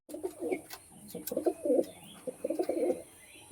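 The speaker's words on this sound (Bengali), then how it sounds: "দেখছেন ডাক করছে কিনা পায়রা" Several pigeons cooing, kept as paired birds for sale, producing repeated bursts of low throaty rolling coos in an uneven rhythm, fairly close, with faint background noise and no talk.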